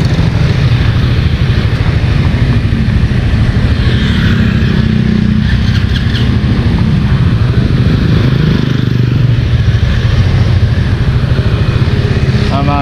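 A Kawasaki Fury 125 motorcycle engine runs loudly and steadily nearby in a Malabon City street, a rough rumbling idle with some clatter and faint background noise.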